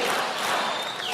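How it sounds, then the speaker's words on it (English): A hometown crowd cheers for Mike Huckabee, a dense, loud roar of applause and shouting that holds steady through the short moment. "The so-called other man from Hope soaking up the love from his hometown crowd"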